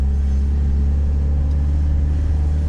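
A 2003 Fiat Doblo 1.9 diesel climbing a ramp in second gear, with a steady loud low engine rumble heard from inside the cabin.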